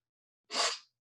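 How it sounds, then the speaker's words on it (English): A single short, sharp sneeze bursts out of total silence, close and fairly loud, then fades quickly. "I'm about to sneeze"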